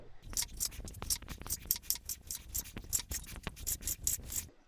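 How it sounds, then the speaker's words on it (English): A knife slices a sirloin steak, trimmed of its fat, into strips for crispy shredded beef, making a quick, steady run of close, crisp cutting strokes against the board with no talking. "And then we just want to slice this up into strips."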